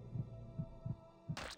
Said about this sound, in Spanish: Fuerte latido, buen corazón